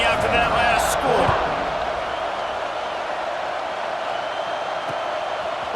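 A stadium crowd in EA Sports College Football 26 buzzes after a score, a broad, steady roar with a brief swell near the start, while a commentator talks over it.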